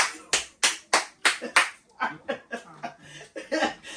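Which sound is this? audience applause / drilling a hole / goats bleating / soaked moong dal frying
audience applause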